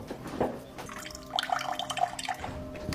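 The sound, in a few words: cold water running from kitchen faucet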